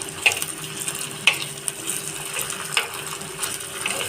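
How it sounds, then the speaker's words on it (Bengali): Dried red chillies, five-spice seeds and ginger paste frying in hot mustard oil for a Bengali raw mango dal, giving a steady close sizzle with a few sharp pops and light clinks. "এটা একটু ফ্রাই করে নিতে হবে।"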